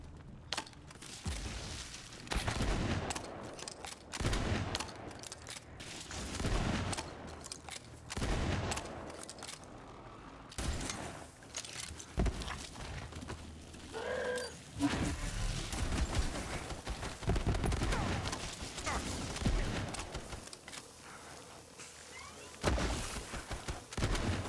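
Shotgun fire in the game Guns, Love, & Tentacles: repeated booming blasts go off in irregular bursts and clusters over a long stretch, fairly soft overall, with busy game noise between shots.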